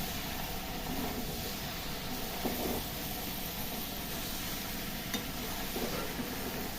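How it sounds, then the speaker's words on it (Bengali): Hot water poured into a pan of fried spice masala with the oil separated, giving a steady, moderately quiet sizzle and bubbling throughout with a few brief stirring clinks, no voices. "এই গরম জলটা দিয়ে দিলাম"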